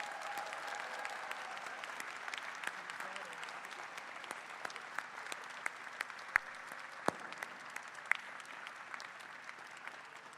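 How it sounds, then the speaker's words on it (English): Audience applause for graduates at an education commencement ceremony, a soft, fairly distant patter of many hands sustained evenly, with a few sharper claps standing out near the end. "A warm round of applause for all those graduates."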